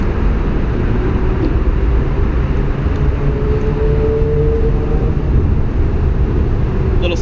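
A 1956 Chevrolet 3100 pickup with a 350 V8, mild cam and headers drives down the road, giving a steady, loud, low engine rumble that holds evenly throughout with no talking.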